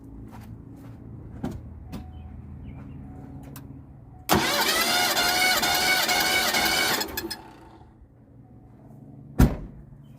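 A 1986 vehicle's 302 V8 cranks over for a compression check, a steady loud rhythmic whirring run of about three seconds, set apart by quiet shop sounds and a few sharp clicks before and after.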